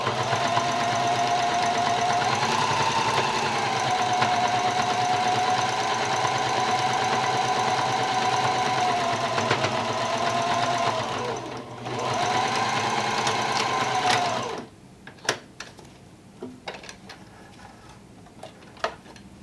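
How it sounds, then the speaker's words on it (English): A sewing machine runs steadily for about fourteen seconds stitching down a seam on a protective fabric face mask, with a brief pause near the middle, then stops, leaving faint handling clicks and rustles. "Now we're simply going to sew that seam down."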